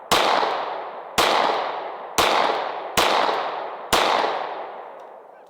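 A Glock pistol fires a fresh magazine outdoors, giving five loud, sharp shots spaced about a second apart. Each crack is followed by a long, fading echo.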